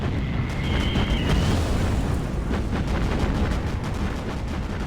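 In the naval video game Battlestations Pacific, anti-aircraft flak fire rumbles in a dense, continuous barrage of deep booms and bursts, loud and close, with a brief whine at the start.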